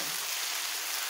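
Noodle mixture for fried instant noodles with meatballs, sausage and vegetables sizzles steadily in a hot pan as it is stirred, a continuous close frying hiss with no talk.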